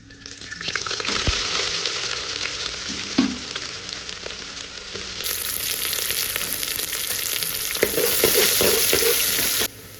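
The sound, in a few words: whole spices frying in hot oil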